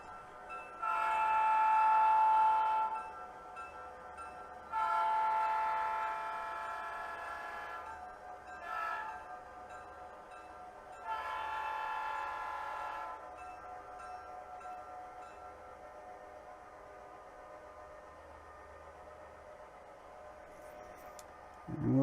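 Freight train horn sounding in a long-short pattern of several loud, sustained blasts, then fading to the low rumble of rolling rail cars in the distance.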